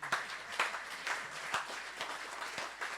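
A conference debate audience gives a warm round of applause, a dense, steady wash of many hands clapping with scattered sharper claps standing out, continuous and moderately loud throughout.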